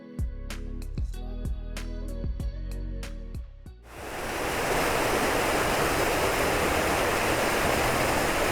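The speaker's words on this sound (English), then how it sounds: "I had thought that there was just one waterfall, but there's actually several of them as this little creek or river" A waterfall on a small forest creek, one of several along its course, gives a steady, close, roaring rush of falling water. Sharp tonal notes come first, then the full broadband roar carries on alone.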